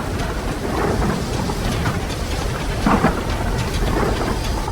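A heavy thunderstorm at night over farm fields: dense rain pours loudly and continuously while thunder rumbles underneath, swelling briefly near the middle, with no voices.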